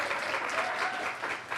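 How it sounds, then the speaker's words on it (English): A crowd claps steadily, a dense patter of applause sustained for a couple of seconds at moderate distance. "let's give Jordan a big round of applause"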